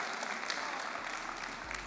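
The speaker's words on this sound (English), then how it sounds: "One large round of applause" Audience applause at a World Scholar's Cup senior debate showcase in The Hague, a steady wash of clapping from a crowd in a hall that carries on without letup and without speech.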